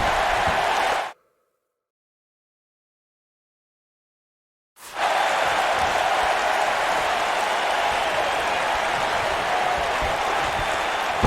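A WWE 2K19 wrestling arena crowd roars and applauds in a dense, steady wash, cut off abruptly into several seconds of total silence before resuming just as loud.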